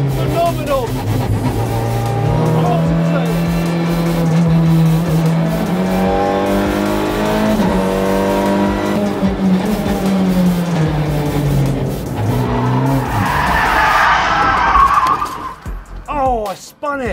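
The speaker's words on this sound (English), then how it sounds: "Oh, I spun it! And I stalled it." A Honda race car at Silverstone roars loudly as its tires squeal in a long, sustained skid through a spin, the engine pitch rising and falling before it cuts out abruptly near the end.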